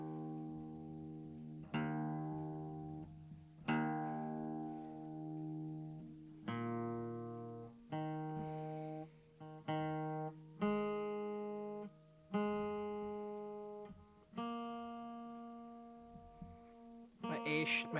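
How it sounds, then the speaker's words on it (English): An acoustic guitar in DADGAD tuning has its strings plucked one at a time, each note ringing and decaying before the next, a slow series of about ten close, clear tones checked for tuning. "Let me double check my tuning here."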